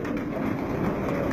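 Champion pigeons on a rooftop, giving a soft steady murmur of cooing and rustling with a continuous background hum.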